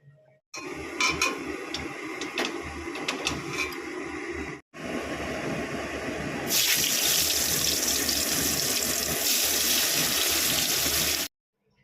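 Water runs from a kitchen tap in a steady, loud gush as it is poured over cooking rice, broken by a brief pause and then returning stronger and brighter until it stops abruptly.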